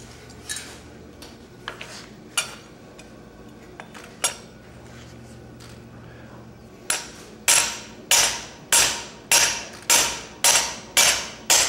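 Blacksmith's hammer striking metal at a smithing conference demonstration: scattered single blows at first, then a steady run of about nine loud, evenly spaced ringing strikes close by, with no talk.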